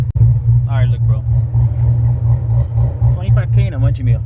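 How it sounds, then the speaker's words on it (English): A V8 car with a valve exhaust idles with a loud, deep, steady rumble close by, throbbing evenly throughout while someone talks over it. "this car is literally shaking. You can see in the shift knob. The best thing about this car is it has a valve exhaust."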